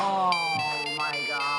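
A phone ringtone from a meme rings out as a steady, bright electronic melody of sustained tones with a rich harmonic layer, filling the short moment without any speech.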